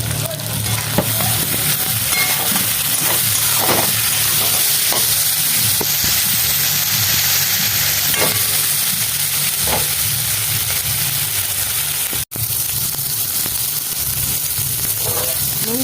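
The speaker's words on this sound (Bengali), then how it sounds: "এবার আমি ক্যাপসিকামটা যে কুচিয়ে রেখেছিলাম ওটা পেঁয়াজের সঙ্গে ভেজে নেব।" Chopped capsicum and onions frying in a pan for a mutton curry, a steady close sizzle with stirring scrapes throughout and a brief drop near the end.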